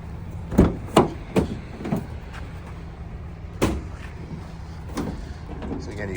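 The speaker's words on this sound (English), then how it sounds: "So you got the dual sliding doors" A 2017 Ford Transit Connect XLT van with dual sliding doors gives a run of close, sharp clunks and rolling thuds, several in quick succession and then a few more spaced out, with faint talking.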